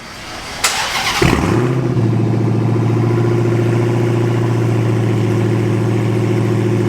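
A Dodge Hellcat V8 with no exhaust fires up: a brief starter whir, then a loud catch, then a steady, rumbling idle that stays close and dominant to the end.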